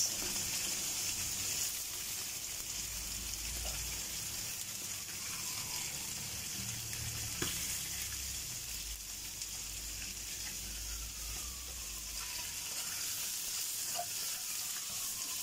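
Ginger and onion sauté in a hot pan with a steady, even sizzle, close and continuous, with a few faint clinks of utensils stirring.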